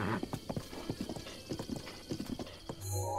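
Horse hooves clip-clopping in Zelda: Breath of the Wild, a quick, uneven run of close hoofbeats over soft game music, then cut off short.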